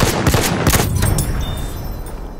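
Dense machine gun fire in the Battlefield 1 battle on the River Somme, a loud rapid rattle of overlapping shots and blasts that thins out over a couple of seconds, with no voices.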